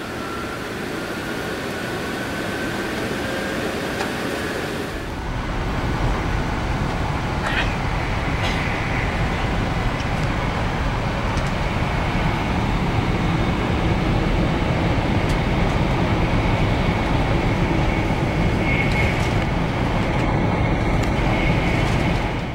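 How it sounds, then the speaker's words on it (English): Continuous low rumble of a train in motion in Japan, steady and loud throughout, with a brief shift early on and faint clicks and rattles over the drone. "we got a little snack for the train and we are off"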